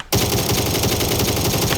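Sustained automatic gunfire in the battle royale game PUBG, a dense, loud, continuous burst of rapid shots beginning abruptly after a brief quiet moment and running steadily to the end.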